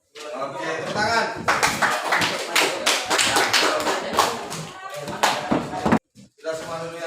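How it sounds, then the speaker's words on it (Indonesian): Children in a classroom clap their hands in loud, irregular bursts of slaps and taps, close by and mixed with voices, breaking off briefly near the end before resuming. "Oke, tepuk tangan."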